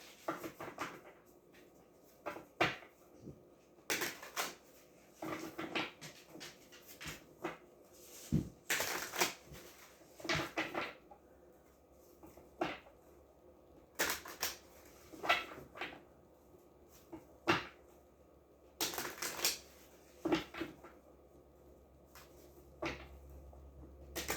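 Cards are shuffled repeatedly in short riffling bursts, with soft tapping and handling noises between them in a quiet room.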